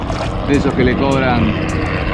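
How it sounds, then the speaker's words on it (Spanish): A helicopter flying overhead near a beach in Maragogi, Brazil, a steady loud rotor and engine drone filling the background while someone talks over it. "Un helicóptero sobrevolando"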